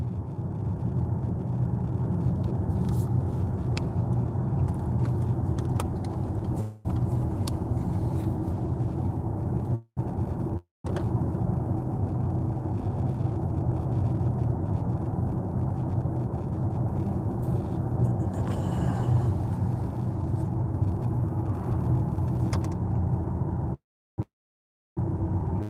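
A BMW iX3 50 xDrive electric car driving uphill on a Sunday outing, heard from inside as a steady road and motor hum with low rumble, interrupted by a few brief dropouts.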